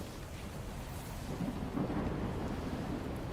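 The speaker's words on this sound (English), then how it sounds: "is that just the sound of lightning?" Thunder from lightning in S.T.A.L.K.E.R. 2 rolls as a broad, low rumble that builds and peaks toward the middle before settling into a sustained roar, without any speech.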